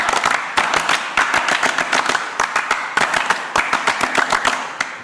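A group of people clap together in a quick, rhythmic scout-style clap on request, loud and close, with sharp repeated bursts and brief pauses between rounds.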